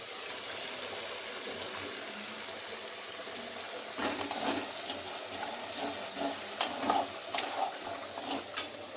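Spice paste frying in oil for a Bengali pabda fish jhal, the oil beginning to separate: a steady close hiss throughout, joined after a few seconds by scattered scraping and clattering strokes.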